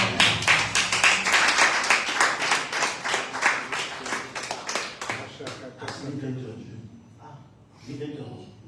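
A church congregation claps in steady rhythm while acclaiming the Lord during a service, the loud, close clapping mixed with voices and then fading into quieter murmuring and talk.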